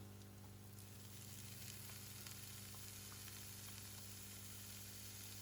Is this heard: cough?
no